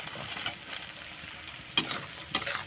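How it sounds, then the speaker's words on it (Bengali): Maggi noodles fry in hot oil with a steady close sizzle, broken by two sharper crackling bursts as they are stirred, no talk. "তেলের মধ্যেই ম্যাগি দিয়ে দিল মানে ফ্রাই ম্যাগি করছে"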